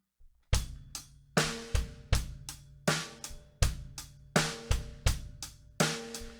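Drum kit playing a syncopated eighth-note groove, with bass drum on one, the and of two and three, snare on two and four, and steady hi-hat eighths, crisp and close with no talking.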